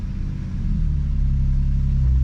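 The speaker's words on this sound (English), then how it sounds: "let's fire it up" Nissan 370Z engine after a spark plug and valve cover gasket replacement, a low steady rumble that swells slightly as it settles into idle, close and continuous with no talking.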